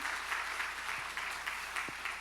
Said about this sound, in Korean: 우리 다시 한번 박수하십시다.